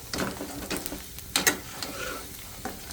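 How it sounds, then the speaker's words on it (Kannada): Peanuts and mustard seeds fry in hot oil for mango rice, giving irregular close crackles and sharp pops over a soft sizzle, with one louder burst of popping near the middle and no voices. "ಎಲ್ಲ ಚಟ್ಪಟ್ ಅಂತ ಸಿಡಿಯಾಕುಂತಾವ"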